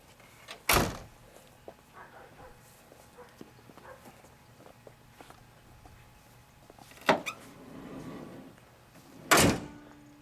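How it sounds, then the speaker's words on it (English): The hood of a 1964 Chrysler Imperial Crown Coupe is shut with heavy metallic thuds, one sharp slam early and two more later, over a faint background of shuffling and distant murmur. "Let's have you shut that hood."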